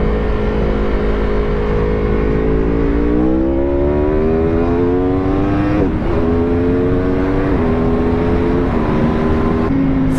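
Aprilia RSV4 RR sport motorcycle engine accelerates hard through the revs, a loud rising whine that climbs steadily, then quick upshifts from the quickshifter with brief dips as each gear catches, close and continuous.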